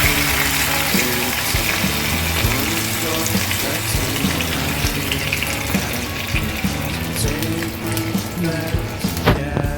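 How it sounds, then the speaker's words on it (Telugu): A small glass of water poured into a hot pan of frying mutton kheema balls, a steady splashing stream over sizzling and hissing oil, fairly loud and close, with no talk. "దీంట్లో ఒక చిన్న గ్లాసు వాటర్ వేసుకోవాలి"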